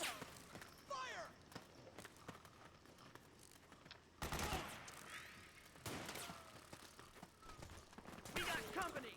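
Gunfire in Metal Gear Solid 4, with bursts of automatic fire and scattered shots in the middle distance under shouted in-game voices and background battle noise.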